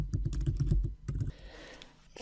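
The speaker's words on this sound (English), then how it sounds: "just click here on the white space and simply start typing" Keys clatter in a quick burst of close typing on a computer keyboard, then stop, leaving a quiet pause and a faint click at the end.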